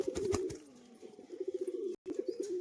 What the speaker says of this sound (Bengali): একটা নর পায়রা এটা কিন্তু মাদি পায়রা না খুব অ্যাগ্রেসিভ একটা পায়রা